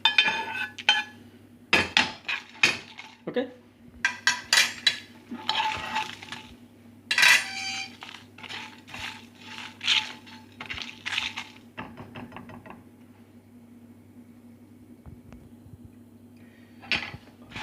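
Whole spices such as sesame seeds and bay leaves for homemade chole masala powder are dry-roasted in a frying pan, giving faint clinks, scrapes and rattles of a spoon against the pan in uneven bursts, with a brief word spoken.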